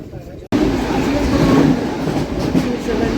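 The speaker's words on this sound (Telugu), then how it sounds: "తెలంగాణ ఎక్స్ప్రెస్ అయితే ఇప్పుడు వెళ్ళింది." Onboard a MEMU local train as the Telangana Express passes, a loud steady rumble with rattling starts abruptly and holds throughout.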